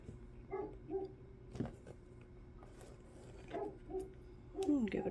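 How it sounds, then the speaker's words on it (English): A dog barks in a few short yips spread across several seconds, faint and from another room, heard over a quiet indoor sewing session with light handling noises. "Oh, here's my dog barking."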